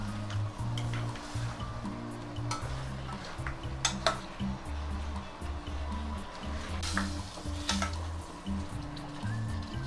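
Ginger garlic paste fries in a pan for chicken fry, a constant sizzle under scattered clinks and scrapes of a spoon stirring against the metal, close and moderately loud.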